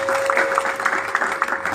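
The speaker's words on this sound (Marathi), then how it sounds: "तिच्याकरता जोरदार टाळ्या." An audience at a live music concert of devotional songs and stage-music numbers claps for a stage announcer, a brief burst of dense, steady applause with a thin steady tone running beneath it.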